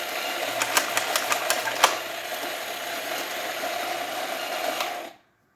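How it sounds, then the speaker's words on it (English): A Pasquini coffee grinder grinds espresso in a steady, close mechanical drone with a few clicking ticks early on, then cuts off near the end. "And while it's grinding, we're going to loosen it a little bit more"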